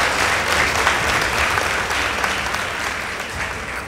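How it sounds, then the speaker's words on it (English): A school debate audience in a hall applauds a competing high school team, giving steady, dense clapping from many hands that stays close and even and tapers slightly toward the end, with no talking. "Let's give them a round of applause."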